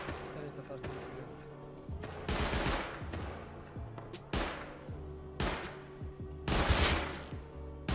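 Gunfire in the video game Rust comes as loud bursts of shots spread across the clip, with rapid automatic volleys and single cracks, while a voice talks underneath.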